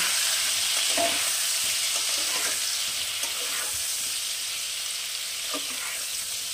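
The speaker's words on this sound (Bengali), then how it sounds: "আমি আলু আর ফুলকপিটা ভেজে নিয়ে" Close, continuous frying hiss of potato and cauliflower pieces in a pan, with occasional light scrapes and taps as the pieces are stirred and turned.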